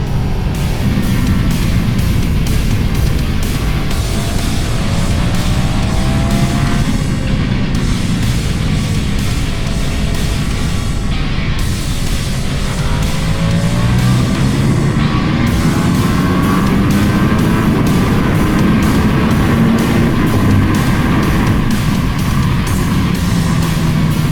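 A Ducati Panigale V4S motorcycle screams at high revs in second gear at around 170 km/h, its engine note sweeping up and down over a constant roar of wind, close and loud throughout.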